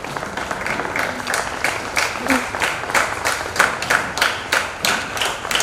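An audience at a DAV high school claps to welcome the regional director on his arrival, uneven rhythmic applause with some louder individual claps, close and continuous over faint background voices.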